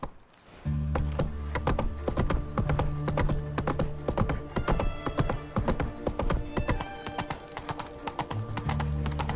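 Roach the horse gallops in The Witcher 3, a rapid, rhythmic clip-clop of hooves, loud and close, over a low musical drone, with a brief whinny-like snort.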